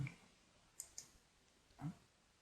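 A computer mouse clicks OK in Revit software: two quick, quiet clicks in close succession over a near-silent background.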